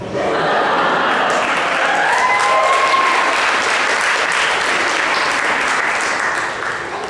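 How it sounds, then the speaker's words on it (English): College stand-up comedy show audience breaking into sustained applause after a joke, a loud, dense wash of many hands clapping that holds steady for several seconds before tapering slightly at the end, with a few cheers mixed in. "For those of you who didn't clap"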